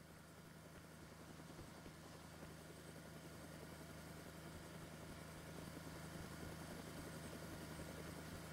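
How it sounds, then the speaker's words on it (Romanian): In the video game DayZ, a boat engine idles with a steady, dense mechanical rumble that holds constant throughout and swells slightly toward the end, heard alone without talk. "Vă zic că e barca."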